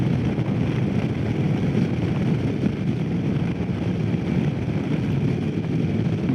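A 2021 Royal Enfield Himalayan BS4 motorcycle at full throttle climbs a big hill at speed, producing a steady, dense engine roar mixed with heavy wind rush that holds constant and loud throughout, with no voices.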